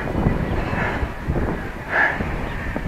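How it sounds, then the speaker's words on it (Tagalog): Steady wind buffeting the microphone at a beach resort in San Juan, Batangas, a continuous broad rushing roar with gusty swells, close and fairly loud. "Mahangin naman eh."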